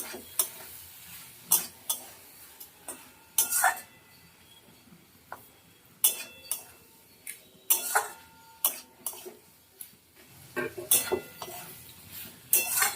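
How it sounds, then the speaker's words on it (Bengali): Pointed gourd being stirred and fried in a pan, with irregular clacks and scrapes of a spatula against the metal over a faint background sizzle, the knocks coming in quick uneven bursts. "নাড়িয়ে চাড়িয়ে ভাজা ভাজা করে নেব"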